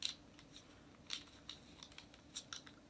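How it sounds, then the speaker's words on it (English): Scissors snip through soft fake marshmallow craft material into small pieces, giving several quiet, close, crisp cuts spaced out irregularly. "And then just cut off a piece."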